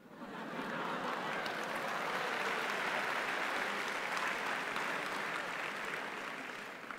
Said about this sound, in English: Now, the fact that you clapped shows you weren't listening.